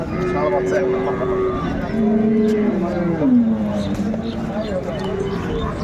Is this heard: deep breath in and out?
no